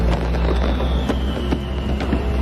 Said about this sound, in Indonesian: Bastille, Layton, Ben, dan kawan-kawan di Head Snow tampak sangat senang melihat kembang api itu